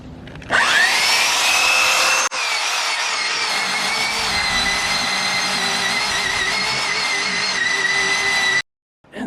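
A power sander works a fiberglass boat deck at a hull-to-deck joint, starting abruptly and holding a loud, steady whine with a brief dip, then cutting off near the end.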